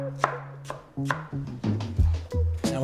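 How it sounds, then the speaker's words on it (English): A knife chops fresh peach on a cutting board for a fruit, Greek yogurt and granola cup, giving a run of crisp, close chops about every half second over a soft steady tonal background. "Get some of that beautiful peach chopped up."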